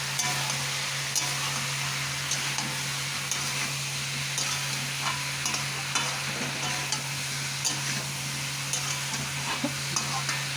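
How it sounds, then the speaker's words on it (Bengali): Vegetables and spices stir-fried in a pan, a continuous bright sizzle with light intermittent scraping of the stirring utensil, steady and close, with no voices. "ভালো করে কষিয়ে নিলাম সবজি মশলা।"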